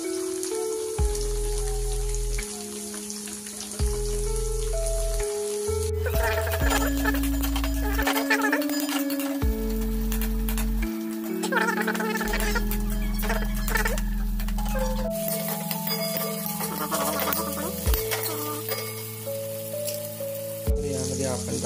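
Green chili and onions drop into a hot oiled pan and sizzle steadily, a rain-like crackle that swells and fades beneath a loud background melody.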